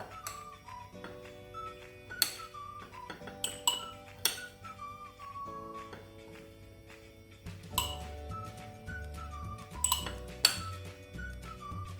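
Chopped onion being spooned into a glass jar, soft scattered clinks and taps of a spoon against glass, fairly quiet, over faint background music.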